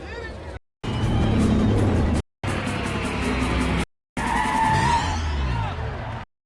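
Street race cars in a film, with screeching tires and revving engines in several short bursts cut apart by brief silences, loud and close.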